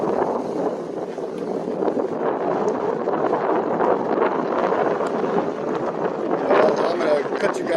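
Heavy wind buffets the microphone throughout an e-bike ride across a drawbridge and along Midnight Pass Road toward Siesta Key Beach. The roar is loud and continuous and rises near the end.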